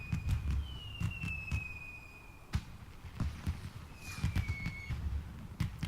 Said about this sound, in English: there's the fireworks I do need to capture